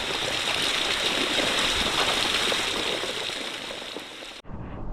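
Steady, dense rushing of a salty river flowing through Rennes-les-Bains, a continuous close wash of water that cuts off abruptly near the end.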